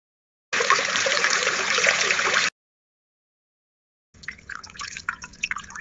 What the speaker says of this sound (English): A single drop of water falling into a calm pond.